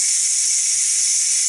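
Steam hissing in a loud, steady, unbroken rush from a Ninja Foodi pressure cooker during quick release after cooking spaghetti, heard close up and alone.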